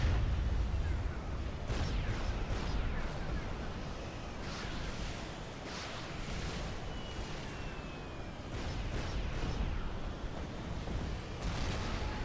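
Trebuchet artillery in Supreme Commander pounds away in a dense, rumbling barrage with repeated heavy impacts and a surf-like roar throughout.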